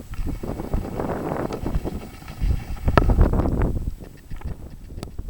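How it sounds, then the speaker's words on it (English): Gusty wind on the Terrapin Mountain Trail near Lynchburg, Virginia buffeting the microphone in uneven bursts, rumbling loudly then easing off. "you can tell it's quite windy here"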